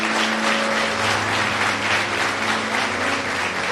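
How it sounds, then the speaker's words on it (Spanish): Congregation applauding at a church service in Valledupar, a dense, steady wash of many hands clapping together, loud and sustained throughout with no voices over it. "Vamos, aplauda a Jesús si usted lo cree."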